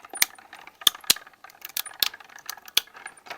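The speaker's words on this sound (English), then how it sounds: "My Sizzix Sidekick does wonders for these small little die jobs" A Sizzix Sidekick die-cutting machine being cranked by hand for a small die job, giving a series of sharp ratcheting clicks and clacks spaced irregularly over a few seconds, close and fairly quiet.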